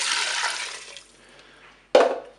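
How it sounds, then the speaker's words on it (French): Broth pours into the metal pot of a Cookeo cooker over lentils, a rushing liquid splash that tapers off, then a sudden short splash or clunk after a brief quiet gap. "Je vais ajouter le bouillon."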